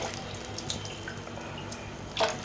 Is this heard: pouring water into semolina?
yes